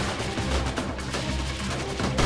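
Sniper rifle fire in the video game Freeman Guerrilla Warfare, dense rapid crackling bursts of gunfire at steady loud level for a couple of seconds.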